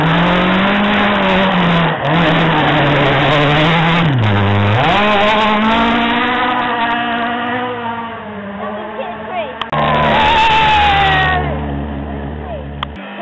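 A rally car screams past on a forest stage at the Wyedean Rally, its engine revving hard and rising then falling in pitch as it passes close and loud, with spectators talking over it.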